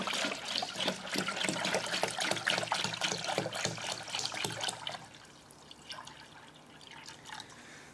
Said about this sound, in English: I'm going to pour that in my fancy funnel.